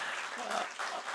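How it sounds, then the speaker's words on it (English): Audience clapping for a panelist at a panel discussion on gender equality and diversity, a brief dense burst of applause from a crowd. "Give her a big clap of hands."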